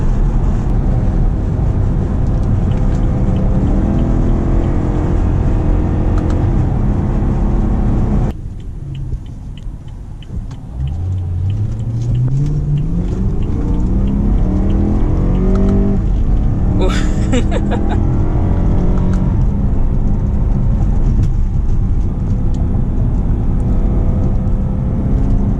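A BMW M3 E93 with a naturally aspirated engine roars under load, then drops briefly before the note climbs again in rising revs, loud and droning inside the cabin with someone talking over it.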